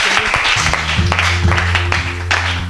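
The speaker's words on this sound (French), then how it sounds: "Est-ce qu'on peut acclamer très fort pour la fête?" A crowd at a singles' gathering with a pastor cheers and applauds, dense steady clapping mixed with voices and a sustained low musical hum underneath, loud and continuous throughout.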